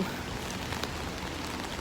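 Steady rain falls on a cold day in a Norwegian town, a continuous broadband hiss of drops with no voices.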